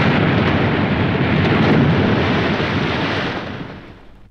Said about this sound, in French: tandis qu'une violente explosion retentit